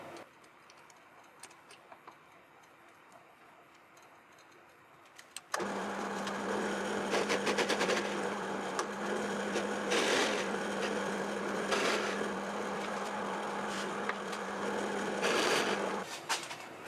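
A drill press starts up and bores a recess hole in a walnut serving tray, a steady motor hum with a grinding cutting texture and periodic swells, running for about eleven seconds after a quiet start.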